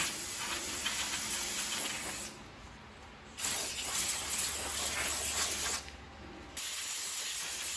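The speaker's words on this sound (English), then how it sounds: "I'm going to gently spray it with the compressed air so those front case fans will not spin." Compressed air sprays dust off a PC case's front dust filter and fans in two long, loud hissing bursts, each lasting a few seconds with a brief quieter gap between them.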